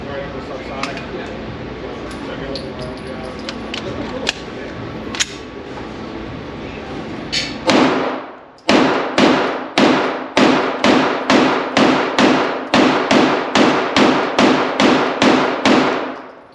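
Talk runs for several seconds, then an S&W M&P 2.0 Metal Frame Competitor pistol fires a rapid, evenly spaced string of about fifteen sharp, loud shots, each with a short ringing decay.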